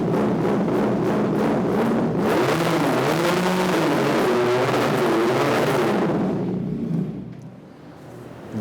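A BMW S1000RR replica 400cc sport motorcycle engine from 2022 revs hard and loud with rising and falling pitch swings, then drops back to a low idle near the end.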